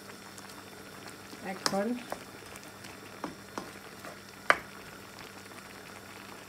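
Pumpkin-greens vegetable curry with potato simmering as broth is added, a soft bubbling patter with a few brief louder splashes and clinks, while a voice speaks briefly over it.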